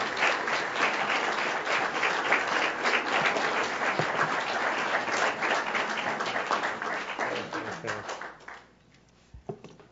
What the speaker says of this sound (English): Give another round of applause to these fine students.